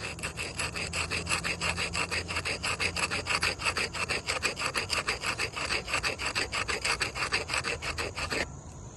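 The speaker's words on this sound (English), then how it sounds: "Let's see if we can get it off with the rub brick." A rub brick scrubs residue off chimney brick, a loud, close, rapid rasping back-and-forth grind in steady rhythmic strokes that stops near the end.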